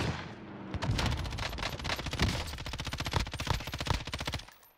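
Rapid automatic gunfire in the Warzone video game, a tight burst of many sharp shots in quick rhythm lasting several seconds, loud and close, with no talk.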